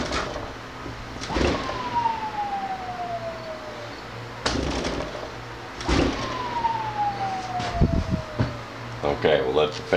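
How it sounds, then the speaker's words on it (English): A homemade mini wind turbine fan spins down twice, each time with a whining tone that slides steadily lower over a few seconds, against a low background hum and occasional clatter. "we'll let the fan turbine come to a stop there"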